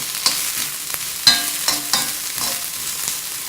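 Chopped carrots frying in a pan with softened onions, a steady close sizzle broken by several scraping stirs of a spatula at irregular intervals, no voices.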